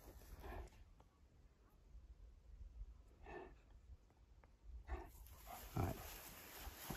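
A dog sniffs and snorts close by in a cornfield, giving short bursts of breathy snuffling at irregular intervals over quiet ambience.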